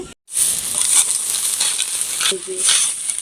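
Sago boils in a covered pot, a close, constant bubbling hiss and sizzle that starts after a brief silence.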